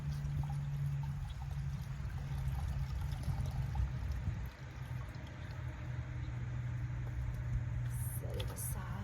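Water running over a bleached flannel shirt during rinsing, a steady pouring and splashing stream with a low hum underneath, continuous at moderate volume.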